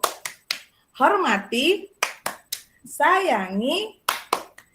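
A teacher leads the 'tepuk guru' clapping ice-breaker game: short bursts of sharp, rhythmic claps alternate with a chanted voice, close and fairly loud.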